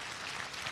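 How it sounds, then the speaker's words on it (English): Audience applause at a 2023 high school spring sports athletic awards ceremony: a dense, steady wash of many hands clapping throughout, with no talk over it. "So if everyone would give them a round of applause"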